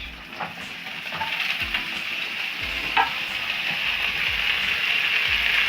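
Spinach hits softened onions frying in a pan, bringing a steady, close sizzle broken by repeated stirring scrapes and soft knocks that come in a loose, regular rhythm.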